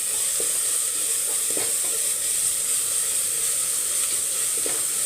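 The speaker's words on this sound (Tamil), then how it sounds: "ஒரு ரெண்டு செகண்டு வதங்கட்டும்" Peas pulao ingredients sautéing in a pressure cooker, a steady close sizzle and hiss with a few soft stirring scrapes, no talk.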